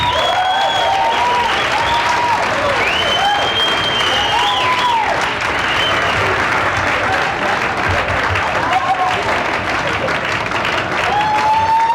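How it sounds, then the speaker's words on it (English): A live audience at a 1984 student stand-up comedy show breaks into sustained applause and cheering, loud and dense throughout, with whoops and whistles rising above the clapping. "Please, a nice round of applause, Mr. Phil Van T."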